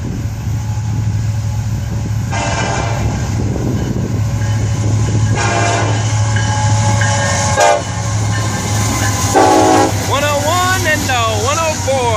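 An FEC freight train rolls past close by with a steady low engine drone, wheel noise and repeated blasts of its horn, and a voice talks over part of it.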